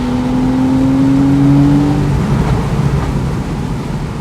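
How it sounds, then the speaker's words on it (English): A Porsche 911 Carrera S (991.1) convertible engine revs hard through second and third gear to 5,500 RPM, its pitch climbing and then dropping as gears change, loud and steady with no talking. "you can hear the burbles on the downshifts"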